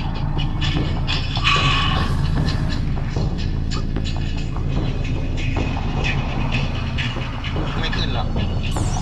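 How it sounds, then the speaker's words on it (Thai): A train rumbles past loudly and close, a dense continuous roar with clanking and rattling bursts, while people talk over it. "รถไฟว่ะ"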